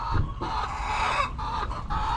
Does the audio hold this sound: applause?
no